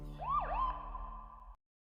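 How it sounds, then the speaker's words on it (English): A lone siren whoops once, rising and then falling, and holds a steady tone for over a second before it cuts off abruptly into silence. "She hears the sound of the siren again."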